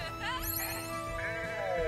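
A sheep in the Renowned Explorers video game gives a couple of close, wavering bleats over a game music bed, with no talking.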